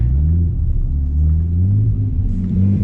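Nissan R32 Skyline drifting on a late-night street, heard as a steady, loud, close engine rumble with wavering pitch as the car slides, no voices over it.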